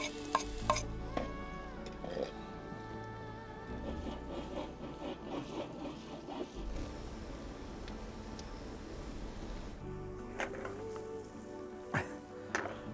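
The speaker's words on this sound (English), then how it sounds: "Just going to let it deglaze the bottom of the pan." Water and beef stock hit a hot pan to deglaze it, giving a steady sizzling and bubbling hiss that runs the whole time, with a few clatters of a utensil stirring and scraping the pan bottom.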